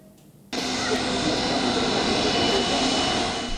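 An Australian government jet aircraft arrives from Sydney, its engine roar cutting in suddenly and holding as a loud, steady, broadband rush to the end.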